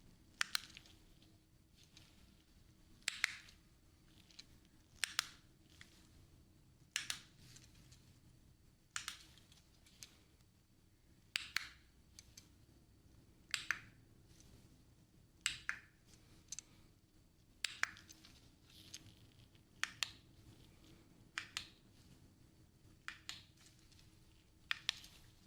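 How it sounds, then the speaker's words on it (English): A run of sharp, crisp remote-control button clicks in a quiet ASMR medical-exam setting, evenly spaced singly and in quick pairs across the whole stretch, close and distinct against faint background hiss. "remote clicks again."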